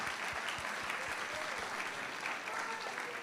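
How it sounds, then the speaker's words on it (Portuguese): Applause from the audience at a national conference event at PUC-SP, a steady dense clatter of many hands clapping that holds evenly for the whole stretch, with no talk over it. "Ah, sim, palmas."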